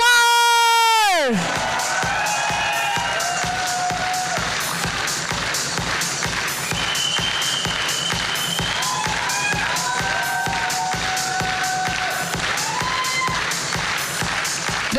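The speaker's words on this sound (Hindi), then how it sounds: "दोनों हाथ ऊपर करके जोरदार तालियां हो जाए for our new black diamond mister Rajiv Kumar" An audience at a Talkatora corporate award event claps and cheers for a long stretch, with loud, steady rhythmic applause mixed with shouts and whoops.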